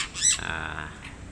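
A small-voiced trained cage bird gives a short, high squawking call, then a thinner chirp trails off quietly.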